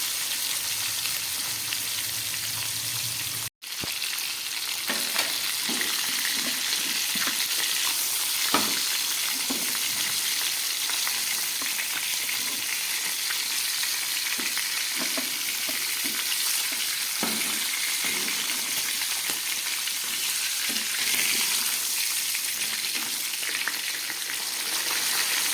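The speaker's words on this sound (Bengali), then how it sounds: "একটু হালকা করে ভেজে নিচ্ছি।" Fish frying lightly in hot oil in a pan, a steady dense sizzle with crackling spatters that continues unbroken and loud, with no talk over it.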